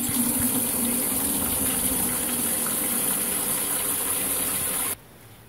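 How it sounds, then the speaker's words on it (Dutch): Water gushes steadily into a bucket being filled for a horse, a loud constant rushing pour that stops abruptly near the end, with no talking. "Vul de emmer met water."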